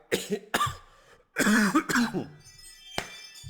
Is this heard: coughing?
yes